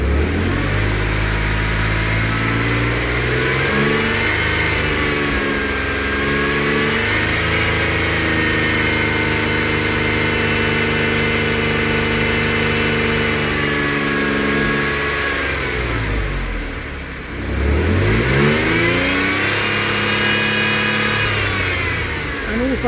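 Jaguar AJ30 engine fitted with Arduino-controlled variable valve timing, a loud, close, continuous run held at raised revs with a brief dip and swell near the end, no talking.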